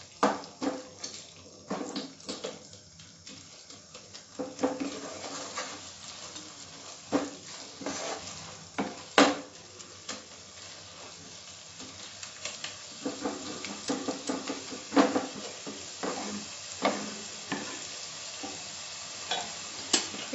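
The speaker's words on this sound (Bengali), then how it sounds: "নুনটা মিশিয়ে নিচ্ছি মশলার সঙ্গে।" Frying spices for spicy tomato crab are stirred with salt in a pan, giving a continuous close sizzle with repeated scraping and clinking of the spoon against the pan, no voices heard.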